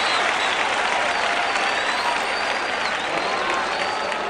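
A large crowd roars and applauds continuously in an American football video game, a dense wash of cheering noise at steady volume throughout.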